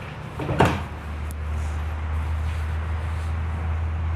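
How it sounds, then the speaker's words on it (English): A stall divider in a 2026 Cimarron Norstar 4-horse air-ride living-quarters trailer swings shut with one close metallic clack near the start, followed by a steady low hum. "that just closes and makes your last divider"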